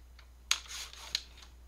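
Paper strips being cut with a couple of crisp, quiet snips against a faint steady background hum.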